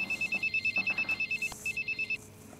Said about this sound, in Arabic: معلش يا رحمه، هاخد التليفون ده يا حبيبتي وارجع لك على طول